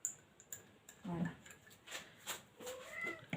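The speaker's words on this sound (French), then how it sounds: "Oui, miaou mon chat." A house cat gives a few short meows close by in a quiet room while someone works on resin moulds, with faint clicks and handling noises around them.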